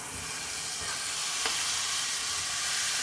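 Red beans frying in an Instant Pot, a steady sizzle under continuous scraping and stirring, with one brief clink of the utensil against the pot.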